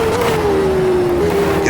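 A race car engine in Automobilista 2 holds a steady, loud, close drone with a slowly falling pitch, easing off and then picking up again near the end, with no talk.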